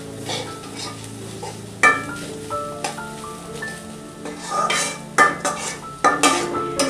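Black cumin seeds dropped into hot oil in a pan and stirred for a green chilli mash, a steady sizzle with repeated clinks and scrapes of a utensil against the pan, close and without speech.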